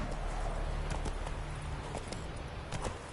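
Roach, a horse in The Witcher 3: Wild Hunt, walking with a steady run of soft hoof clip-clops over a continuous low ambient hum, fairly close and moderately loud.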